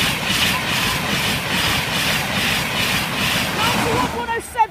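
A Class 91 locomotive and a Class 158 diesel unit roar past a level crossing at Tallington, Lincolnshire, a continuous loud rushing rumble with rhythmic wheel clatter that cuts off abruptly near the end.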